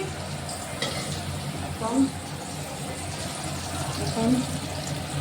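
Potato pieces fry in hot oil in a pan while chicken gravy is being cooked at home, giving a soft, steady sizzle with faint stirring scrapes, heard fairly quietly and close by.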